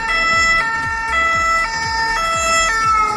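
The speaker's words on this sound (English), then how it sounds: "the ambulance siren is different one in Japan" A European ambulance siren wails in a steady two-tone pattern, switching pitch about every half second, loud and close with faint road rumble beneath and no voices.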